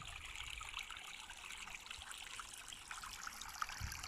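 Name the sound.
fresh spring water trickling into a fish pond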